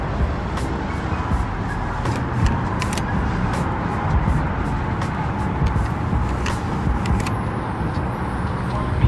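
Steady low rumble of a pickup truck engine and road noise from inside the cab while towing a trailer, with occasional clicks and rattles throughout.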